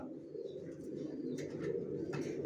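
Racer pigeons for sale coo softly and continuously nearby, a low murmuring rumble with a few brighter calls rising above it.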